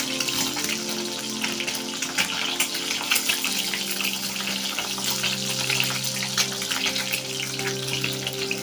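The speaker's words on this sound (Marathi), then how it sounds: "असे एक एक असे पीसेस घेऊन तेलामध्ये टाकायचे एका वेळेला सगळेच नाही घालायचे थोडे थोडेसे करून घालायचे" Egg paneer pieces frying in hot oil, a dense and continuous close crackling sizzle that holds at an even level throughout, with no talking.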